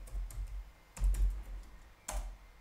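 Computer keyboard being typed on close up, a few separate clusters of soft clicks with short gaps between them in an otherwise quiet room.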